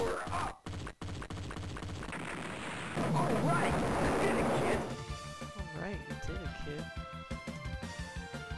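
Rapid shooting and explosion effects from the DonPachi shooter game on a Sega Saturn, a dense continuous barrage followed by bursts of game tones, with a person talking over it.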